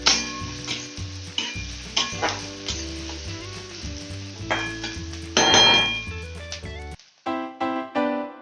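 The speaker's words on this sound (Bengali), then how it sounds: "তেল গরম হয়ে গেছে, পেঁয়াজ কুচিগুলো দিয়ে দিচ্ছি।" Chopped onion and green chilli sizzle in hot oil in a pan for a Bengali-style chicken paratha, a steady crackle that swells briefly mid-way, mostly buried under background music.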